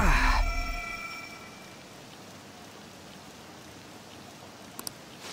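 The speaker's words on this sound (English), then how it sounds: "This rain ain't too bad." Rain falls steadily in Persona 5, a soft, even hiss of drops on the ground after a brief louder burst at the start, with a couple of faint clicks near the end.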